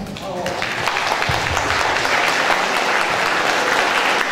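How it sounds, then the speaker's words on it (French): Dense, steady applause from an audience at a French-language public debate on urban traffic, loud and close, sustaining without a break across the whole stretch. "Je vous demande de bien vouloir applaudir comme il se doit Antoine"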